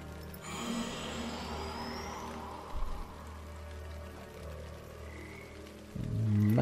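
A toad croaks beside a pond in the hidden-object game Mystery Case Files: Black Crown, a few soft croaks over a steady wash of rain or water ambience, with a louder burst near the end.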